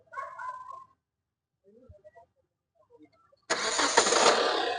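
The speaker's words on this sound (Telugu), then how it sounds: "ఇంజన్ కూడా ఒకసారి స్టార్ట్ చేసి చూపిస్తాను" A 2018 Hyundai Creta 1.4 diesel engine starting: after some faint brief sounds, the engine catches at once and settles into a steady, loud idle rumble.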